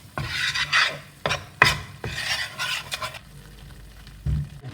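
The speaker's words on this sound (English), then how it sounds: "let that flour thoroughly cook. Giving it a stir every so often." A flour roux for a Greek moussaka béchamel stirred in a pan: rhythmic scraping strokes of a utensil against the pan over a low sizzle, close and fairly loud, with no talk.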